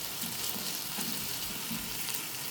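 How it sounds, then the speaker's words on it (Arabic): Garlic sautéing in a pot over fried onion for shrimp kabsa, giving a constant, even sizzle that sounds close and fairly soft, with no voices. "هندي بقى للثوم بتاعنا تشويحه حلوه كده"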